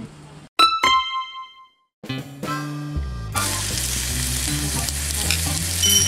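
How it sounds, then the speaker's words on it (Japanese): Spare ribs and other meat sizzling on a grill at a glamping site in Iwaki. After a few bright chime-like tones, a steady, close frying crackle fills the rest of the clip with a low hum underneath. "見てください、このお肉たち、 ジュージューって。"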